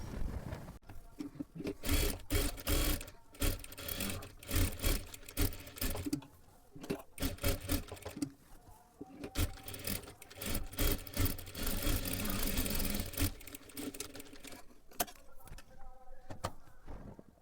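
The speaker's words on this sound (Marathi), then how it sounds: "आता इथे आपल्याला परत एकदा डबल शिलाई मारून घ्यायची आहे म्हणजे पूर्ण लेस आपली इथे पॅक होऊन जाणार आहे" A sewing machine double-stitches lace along the neckline of a blouse, a busy rattling run with short pauses and restarts, close and steady at moderate volume.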